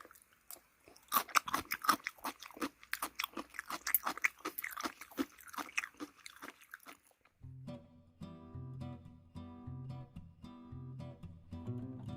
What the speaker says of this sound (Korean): 아삭아삭, 사각사각 씹히는 오이